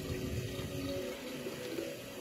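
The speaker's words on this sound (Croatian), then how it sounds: "Stavit ćemo malo vode" Room-temperature water pours steadily into a jar of arugula seeds, a continuous close splash and trickle with no talking.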